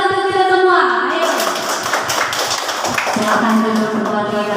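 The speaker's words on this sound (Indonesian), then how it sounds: "tepuk tangan untuk kita semua" An audience at an Indonesian event claps hands together in a steady burst of applause that carries on under a voice speaking through a loudspeaker.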